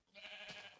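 A single sheep bleat from Minecraft on a grassy hill, a short wavering cry heard alone and fairly clear.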